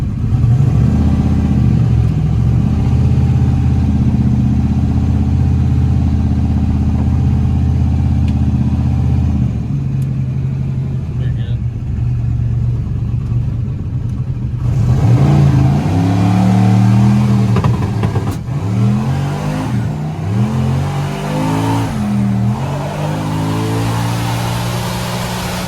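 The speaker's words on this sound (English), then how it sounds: "Let's see if we can wait for a few cars to get by and turn around and do a trans brake launch." A 106mm turbocharged Buick Regal revs loudly on the street, its steady engine drone giving way to rising and falling revs of a trans brake launch, with no talking.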